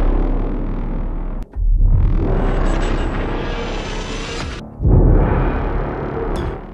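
Dense, distorted synthesized drones and rumbling cinematic effects from the Symphobia 4 Pandora library, swelling loudly with a rising whoosh and a brief drop out between sections.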